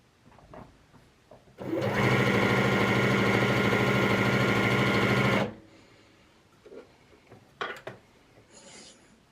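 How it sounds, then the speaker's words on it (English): A FEIYUE FYe350 heavy duty sewing machine straight-stitching two layers of muslin runs in one loud, steady mechanical whir for about four seconds, framed by quieter handling clicks and fabric rustle before and after. "I'm going to just sew on 2 layers of muslin. I've selected a straight stitch with a length of about 2, 0 width"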